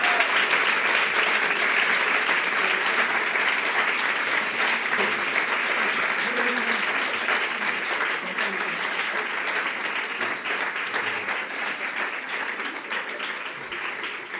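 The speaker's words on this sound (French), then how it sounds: "Donc, je vous demande un tonnerre d'applaudissements pour les 7 finalistes." Sustained applause from an audience for seven finalists at an eloquence contest, a dense, even roar of many hands clapping that holds steady throughout and eases off slightly toward the end.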